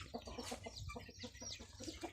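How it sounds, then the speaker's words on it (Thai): Native chickens on a Thai farm cluck and chatter in quick overlapping bursts, several birds close by with soft throaty calls repeating irregularly and no one speaking. "ไก่พื้นบ้าน นี่แหละพี่น้อง"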